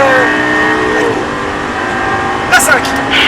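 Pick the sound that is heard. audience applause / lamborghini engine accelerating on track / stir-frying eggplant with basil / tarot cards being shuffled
lamborghini engine accelerating on track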